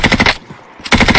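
Rapid automatic assault rifle fire in a video game, two loud close bursts of quick regular shots separated by a brief lull.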